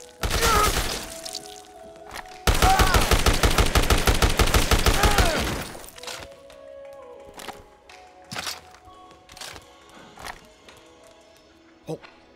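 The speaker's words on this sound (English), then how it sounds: "Found him! Returning fire!" Bursts of rapid automatic gunfire with shattering impacts in the video game Dead Rising Deluxe Remaster, loud and dense for several seconds, then scattered single shots and clatter fading into quieter game ambience.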